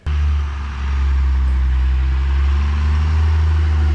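A 2nd Gen Cummins diesel pickup engine runs loud and steady close by, a deep continuous idling rumble with no talking over it.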